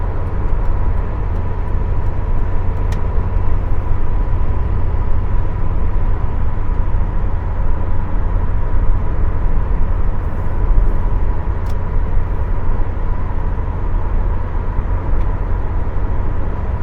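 A 1987 first-generation Honda Civic CRX cruising in fifth gear, heard as a steady low engine drone and road rumble from inside the cabin, constant and fairly loud, with no talking.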